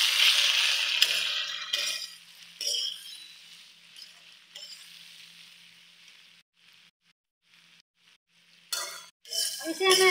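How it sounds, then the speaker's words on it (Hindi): A spoon scrapes and clinks through pumpkin and potato sabzi spiced with garam masala in a pan, with soft sizzling, louder at the start and end and fading to near quiet in between. "अब इन सारी चीज़ों को हमें अच्छे से मिक्स करना है।"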